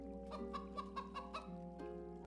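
A chicken in the stop-motion film Coraline gives a series of short, rhythmic clucks over a soft steady background, ending in a longer drawn-out cluck, with no talk.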